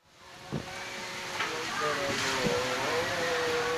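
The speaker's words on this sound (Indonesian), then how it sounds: "video amatir yang menggambarkan begitu dahsyatnya hujan deras yang disertai angin kencang di Kabupaten Banjarnegara Rabu siang" Heavy rain driven by strong wind in Banjarnegara Regency on a Wednesday midday, a steady broadband roar that swells and grows louder over a few seconds, with faint muffled voices underneath.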